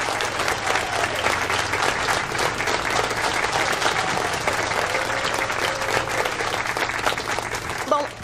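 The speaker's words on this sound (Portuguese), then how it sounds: "Aplausos para Lola e para Teresa," Sustained applause for Lola and Teresa fills the room, a dense, even clapping from a crowd that carries on without a break and fades slightly at the very end.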